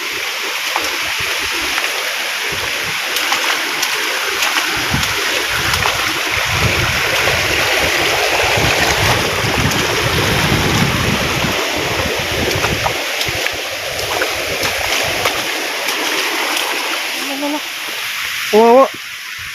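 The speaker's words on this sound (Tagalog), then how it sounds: "Ay, lakas ng tubig." Strong, fast-rising floodwater rushing past outdoors, a steady broadband roar running the whole length with a brief bright tone near the end.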